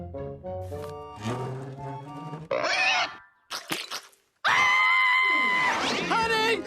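A faulty chair in a cartoon gives loud, high pig-like squeals and grunts in abrupt bursts, with short gaps between them.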